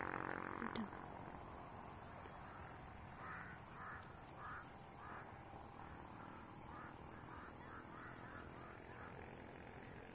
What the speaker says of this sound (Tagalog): Daghan kay uwak.